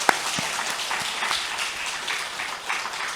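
A church congregation gives the Zion choir a round of applause during a Sunday service, with steady, dense clapping that continues at an even level for a few seconds and no voices over it.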